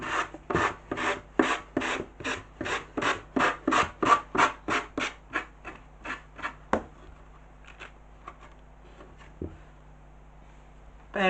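Rhythmic sanding with sandpaper during decoupage work, about twenty quick back-and-forth rasping strokes up close, slowing and fading into a few scattered scrapes.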